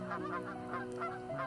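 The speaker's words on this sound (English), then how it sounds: "now a male long-tailed duck paddles right by" Male long-tailed duck calling at a river mouth, several nasal honking calls repeating in a quick rhythmic series, fairly close and clear over quiet background.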